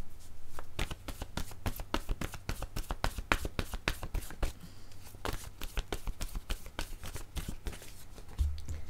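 Cards from a game deck rustle and snap in rapid, dense flicks and slides, close and fairly quiet, with steady handling throughout.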